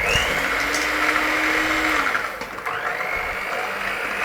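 An electric mixer beats lemon yogurt cake batter, a loud close motor whine that holds steady, dips briefly, then carries on whirring.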